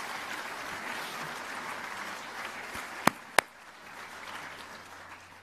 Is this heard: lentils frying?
no